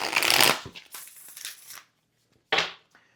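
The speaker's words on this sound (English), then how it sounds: "How do I shuffle this that the cards don't fly by?" Tarot cards riffle and slap together in a quick shuffle, then a pause and one more short flurry of card noise.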